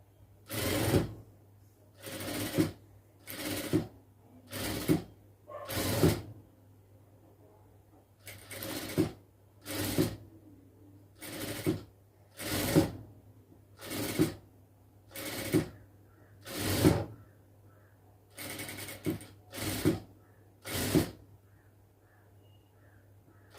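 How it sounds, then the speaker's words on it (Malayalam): A sewing machine stitches down the folded quarter-inch edge of a churidar neck piece in about sixteen short, even bursts separated by brief pauses, each a close, clear run of rapid needle clatter. "ഇതിൻ്റെ സൈഡെല്ലാം ഒന്ന് 1/4 ഇഞ്ച് അളവിന് ഒന്ന് മടക്കി തയ്ച്ച് കൊടുക്കാം"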